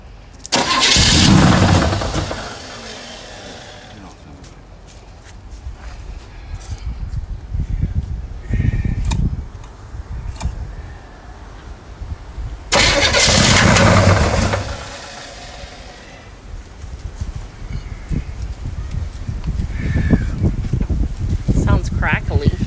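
A 1965 Pontiac GTO engine is cranked and fires up twice in loud bursts, then settles into a rough running idle up close. People talk near the car.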